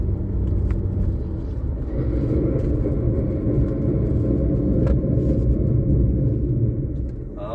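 A car with bad brakes and worn motor mounts on a road drive, giving a steady low rumble of engine and road noise throughout with faint scattered knocks and squeaks.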